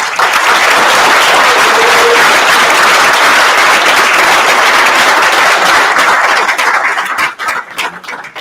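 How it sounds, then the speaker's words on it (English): Loud, dense applause from a large audience honouring volunteers at a summit for Dustoff crews, sustained for several seconds before tapering into scattered claps. "please give our volunteers a much-deserved round of applause"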